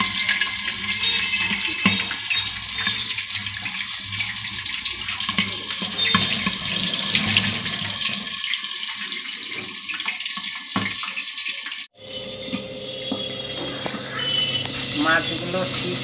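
Boal fish frying in hot oil: a loud, steady sizzle with dense crackling and spitting runs close up throughout, briefly dipping near the end before resuming.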